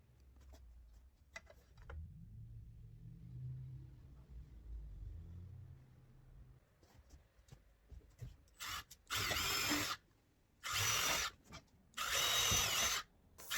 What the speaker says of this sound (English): Then I go ahead and pre-drill all the holes.